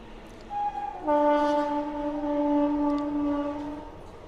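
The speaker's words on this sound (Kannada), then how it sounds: "ಟ್ರೈನ್ ಇದೆ ಟ್ರೈನ್ ಮಾತ್ರ ಹಿಂಗೆ ಹೋಗ್ಕಾವ ಬರ್ತಾವು" Passing train sounding its horn, a loud sustained multi-tone blast that swells in and holds for about three seconds before fading, heard outdoors without talk.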